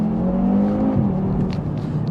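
A 2021 Audi TT RS with a 400 PS engine pulls hard along a country back lane, a loud, steady engine drone rising in pitch, then dipping briefly before carrying on.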